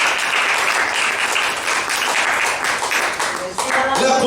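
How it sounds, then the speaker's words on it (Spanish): A church congregation gives loud, dense applause for Jesus during a sermon, the clapping sustained and close, with voices calling out over it. "Dale una ofrenda de palmas a Jesús."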